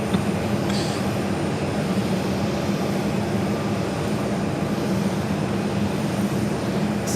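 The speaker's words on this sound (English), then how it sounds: "767-300ER taking off to Atlanta, flight 348" A Delta Boeing 767-300ER jet roars in a loud, steady, broadband rumble as it takes off at Phoenix Sky Harbor, the engine noise sustained without letup.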